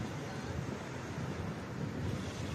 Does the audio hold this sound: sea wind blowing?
yes